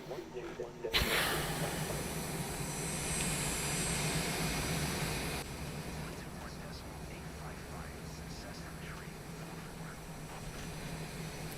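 A Citation Longitude's jet engines in MSFS 2024 roar as the throttle surges, a loud steady whine that rises after a sharp onset, then drops to a lower hum while a voice talks over it.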